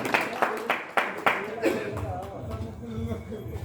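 Audience applause at a kavi sammelan poetry gathering in Garwar, Ballia: several sharp bursts of clapping in the first two seconds, then a voice speaking over the fading hall sound.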